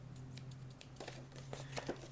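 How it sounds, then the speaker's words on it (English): Scissors snipping paper while a pop-up box is being made: a quick series of short, crisp cutting clicks, faint and close, with no talking. "And then I'll just take my scissors"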